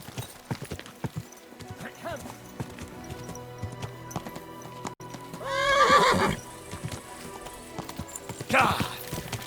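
A horse in the medieval game Kingdom Come: Deliverance 2 clops along at a steady walk, hooves knocking close by, then gives a loud whinny midway and a shorter neigh near the end, with brief spoken lines.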